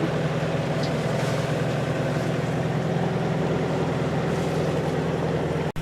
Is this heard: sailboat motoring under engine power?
yes